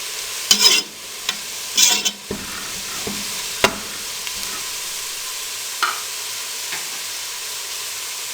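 Whole spices frying in oil in a pot for beef pulao: a soft steady sizzle with a few sharp clinks and scrapes of stirring, close and fairly quiet, with no talking.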